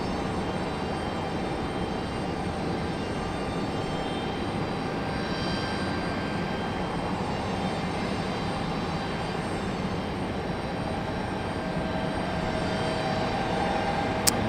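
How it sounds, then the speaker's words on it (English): A Delta airliner takes off at Raleigh-Durham airport, its jet engines making a steady, sustained roar that stays even throughout and heard from a distance. "I did not even see that Delta taking off. Taking off out of here in a hurry."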